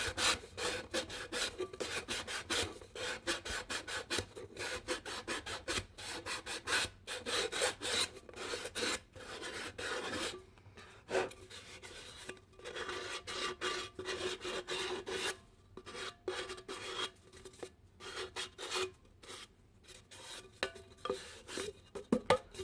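Nail file rasping along the cut edge of a Pringles can, a steady run of quick scratchy back-and-forth strokes, close and fairly loud, with brief pauses between bursts.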